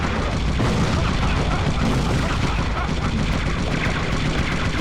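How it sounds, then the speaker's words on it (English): Cannon fire and explosions from the vehicular combat game Twisted Metal 4 form a dense, loud, continuous barrage of booms and blasts with no pauses. "Cannons are fun."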